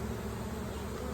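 Dense, loud droning buzz of many honeybees swarming at an open hive, close and continuous with no pauses.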